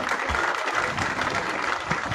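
Audience applause at a youth festival in Ketekré-Bonikro, Toumodi, a continuous crowd of clapping hands with a murmur of voices, steady and fairly loud throughout.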